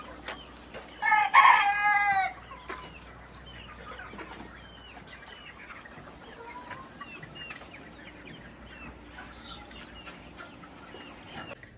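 Native country chickens at a farm of about 300 birds, where a rooster crows loudly and close by in one burst, followed by steady soft clucking and scattered bird calls throughout.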